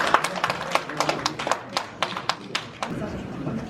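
A small audience claps at an award presentation at a New Year gathering, uneven sharp hand claps in a quick irregular patter, close and fairly loud, fading toward the end.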